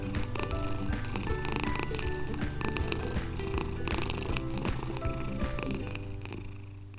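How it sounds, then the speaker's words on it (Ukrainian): A kitten's steady purr rumbles on without a break, with a dense, busy layer of sound over it. "Пригорнулося кошенятко до дівчинки, замуркотіло, раде, радісіньке."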